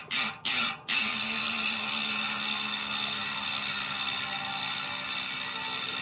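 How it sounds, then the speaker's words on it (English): A Corima Essentia 40 allroad bicycle wheel spins freely with a loud, steady freewheel whir after a few short bursts as it is wound up to speed, then coasting on evenly. "Now it's time to hear the freewheel mechanism."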